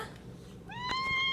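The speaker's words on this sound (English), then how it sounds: "Are you gonna meow after every word I say?" A cat gives a single short meow, close and fairly quiet, over low room hum.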